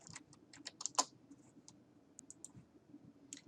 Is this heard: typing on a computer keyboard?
yes